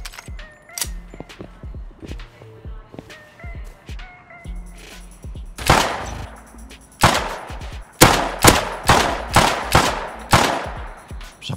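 Gunfire in the survival game Rust: sharp single shots at first, then heavy bursts of rapid automatic fire in quick volleys, loud and close.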